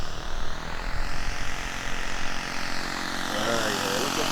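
A quarter-scale Sopwith Pup model biplane flying past at just under a third throttle, its propeller engine droning steadily and fairly loud before easing as it moves off, with a voice talking over it.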